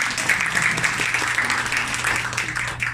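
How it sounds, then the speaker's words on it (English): Audience clapping at a business event, a steady full round of applause from a sizeable crowd, loud and continuous throughout. "can you please give another clap to my beloved"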